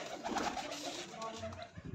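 A pigeon coos softly in a short, throaty, rolling call, quiet and nearby.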